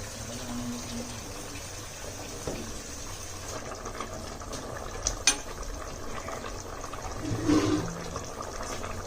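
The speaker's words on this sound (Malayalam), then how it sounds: "ഇതിലെ വെള്ളം ഫുള്ള് കളയണം." Water drains out of a container holding caught fish, gurgling softly with a low, running wash, swelling into a brief gush near the end.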